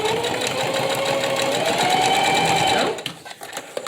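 A sewing machine stitches a fabric face mask in a steady, continuous motor whir close by for nearly three seconds, then stops abruptly, leaving quiet room noise.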